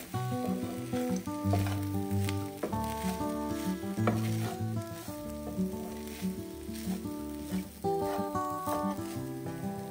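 Shrimp fried rice with white sesame seeds is stir-fried in a pan, the sizzle and intermittent scraping running under louder background music.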